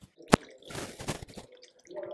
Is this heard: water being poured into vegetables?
yes